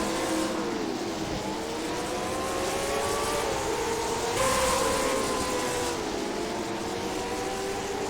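Late model race cars roaring past on Jefferson Speedway, several engine notes rising and falling in overlapping sweeps as the pack goes by, loud and steady throughout with a swell near the middle.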